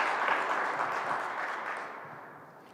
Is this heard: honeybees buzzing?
no